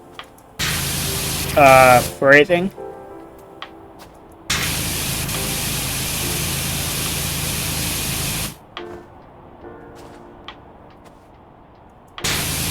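A pressure washer blasts water in Powerwash Simulator, a loud, steady hissing spray running in long unbroken stretches separated by silent pauses, with a brief spoken word between bursts.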